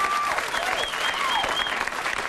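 Audience at a comedy show breaks into steady applause, a dense continuous wash of clapping with a few faint whistles riding over it, moderately loud and close, with no voices clearly talking.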